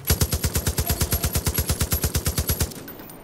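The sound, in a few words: gunfire from video game Far Cry 5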